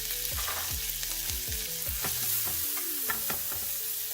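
Onions fry in a pan after five different seeds darken in the oil, a dense steady sizzle close up, with a low rhythmic hum and occasional stir clicks underneath, no talk.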